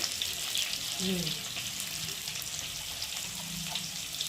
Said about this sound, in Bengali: আলুটা বেশ লাল লাল করে ভেজে নিয়েছি